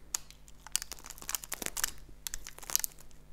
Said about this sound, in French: Vous entendez croustiller?